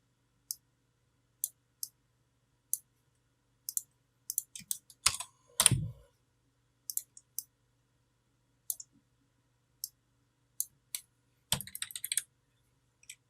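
Computer keyboard typing while composing a book page in InPage, with isolated key clicks at a slow, irregular pace, a brief denser burst of keystrokes and a louder clatter midway, heard close and alone.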